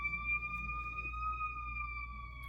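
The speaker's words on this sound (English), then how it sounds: "Let's wait for the ambulance to go by." An ambulance siren wails in steady, sustained tones that shift slightly in pitch, heard at moderate distance in a quiet room.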